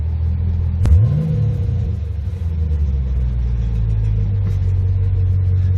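Camaro SS V8 with chopped Flowmaster exhaust, fitted with American Thunder system during race prep, rumbles steadily at idle with one brief rev swelling and falling early on, deep and close.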